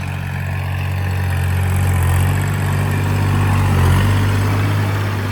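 Used 2015 Kubota L3208SP tractor, in good condition with low hours, idles steadily up close with a deep, constant low hum and a slight swell in loudness midway.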